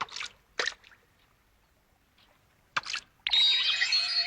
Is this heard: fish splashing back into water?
yes